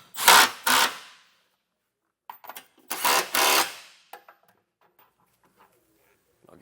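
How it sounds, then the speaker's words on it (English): A ratcheting socket wrench with a 19mm socket tightens trailer hitch bolts on a 2022 Toyota Highlander, in two pairs of close, rasping bursts separated by a pause, followed by faint clicks and handling. "So now we can tighten everything down. I'm using a 19mm socket."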